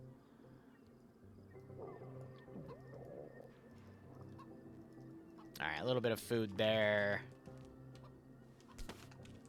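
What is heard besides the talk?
chicken clucking in the video game DayZ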